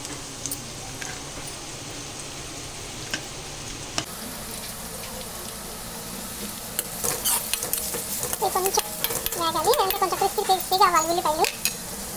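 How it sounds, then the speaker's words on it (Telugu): Onions frying in a pan turn reddish while being stirred, with a soft background sizzle building into louder bursts of sizzling and scraping near the end as the cooking intensifies. "కొంచెం ఉల్లిపాయలు కొంచెం రెడ్గా వేగాయి కదా."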